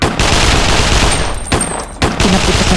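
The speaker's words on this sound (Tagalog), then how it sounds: "Pinaputukan namin sila." Sustained machine-gun fire aimed at creatures, loud and close, a dense continuous barrage broken by two brief pauses.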